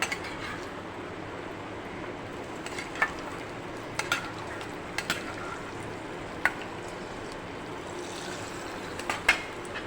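Fried coconut being poured and stirred into a black chicken (karinkozhi) curry makes a steady soft sizzle with scattered sharp scrapes and clinks of a spoon against the pan, fairly quiet and close, with no talking.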